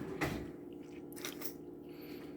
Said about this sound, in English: I'm going to watch Christopher do a taste test, if you don't mind, Chris.